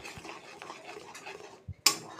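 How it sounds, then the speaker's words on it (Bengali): A spoon scrapes and clinks around a bowl as powdered sugar is stirred into a mixture, with soft irregular scraping, a couple of dull knocks and a sharp metallic clink near the end. "ভালো করে নাড়িয়ে মিশিয়ে দিচ্ছি। ব্লেন্ড করে রাখা 4 টিস্পুন চিনির গুঁড়ো ভালো করে মিশিয়ে নিচ্ছি।"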